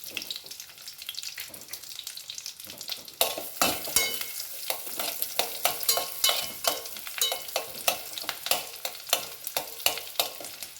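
Chopped big onions sautéing in a pan for sambar: steady close sizzle with repeated scraping stirs, quieter at first, then louder and denser from about three seconds on.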